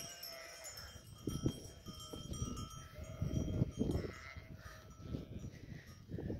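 A flock of sheep and goats wearing cowbells moves toward highland summer pasture. Scattered bleats rise over irregular clinking and clanking of bells, some close and some farther off, with no talking.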